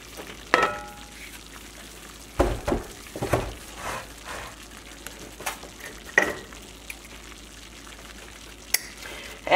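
Flour browning in fat in a pan for water gravy, a soft sizzle beneath intermittent scraping and stirring knocks at an irregular pace.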